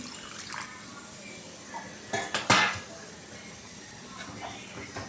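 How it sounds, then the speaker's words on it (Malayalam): Moong dal curry being stirred in a pot after water is added: a spoon scrapes and clinks against the metal in a few short bursts over a faint steady hiss, mostly quiet between strokes. "വെള്ളം ചേർത്ത് ഇളക്കി."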